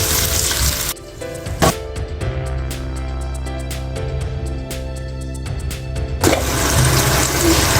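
Water poured into a hot pan for chana pulao sets off a loud, dense sizzle that eases into a steadier bubbling fry with light clinks of stirring, then surges again near the end.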